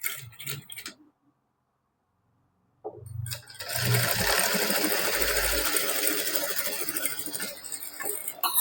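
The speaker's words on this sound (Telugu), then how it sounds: "షోల్డర్ జాయింట్కి డబుల్ స్టిచ్ చేయాలండి." A sewing machine double-stitches the shoulder joint of an umbrella-style long frock: a brief whir, a pause of silence, then a sustained rapid mechanical stitching run, close and fairly loud.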